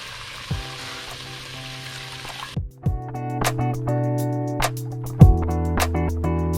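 Beef and seaweed stir-fry in a pot for Korean seaweed soup, a steady sizzle broken by clanking stirs, close up over background music.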